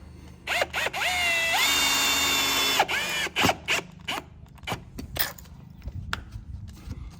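A power drill drives a screw into a lower-corner garage pest shield, one sustained whirring burst of a couple of seconds close by, followed by scattered clicks, taps and handling noises.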